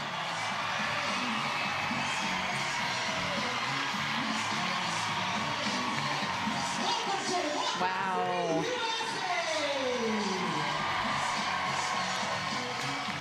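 A huge home crowd roars steadily after a walk-off win at a professional softball game, with an excited commentator talking over the cheering.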